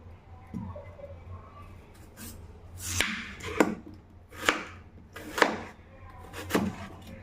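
A knife cuts potatoes into medium pieces for aloo fry, making sharp chopping knocks on a board. About six distinct chops come at uneven intervals and sound close against faint background noise.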